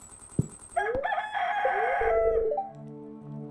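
Chickens on a farm in the video game Stardew Valley give a brief, close crowing call with clucks, alone and fairly clear over soft game sounds.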